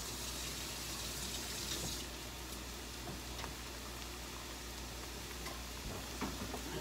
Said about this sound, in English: Just rinse off my hands real quick.